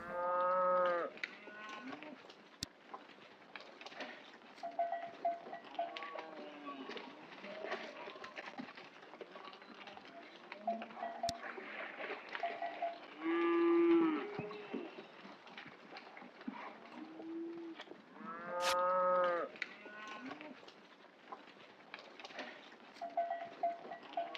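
Cattle moo repeatedly at the edge of an Alpine village, several long lowing calls from nearby animals at varying loudness, with faint bird sounds behind and no speech.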